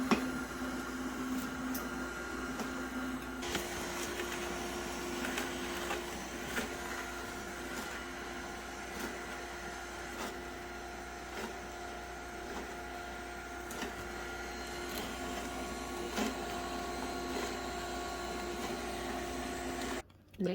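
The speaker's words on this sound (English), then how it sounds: "that's what I'm doing, is continuing to juice the spinach" A NAMA J2 juicer presses spinach into green juice, giving a steady, close mechanical hum with a faint tonal whine and occasional soft crunching, running unbroken throughout.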